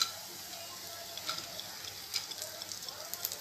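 Almonds, cashews and makhana roasting lightly in ghee in a pan: a quiet, continuous sizzle with soft irregular ticks and stirring scrapes, close but faint, with no voice over it.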